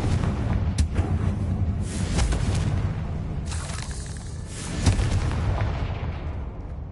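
A Confringo blasting spell in Hogwarts Legacy sets off a series of loud, booming explosions, one after another, with sharp cracks at the start and a rumbling low roar running under them.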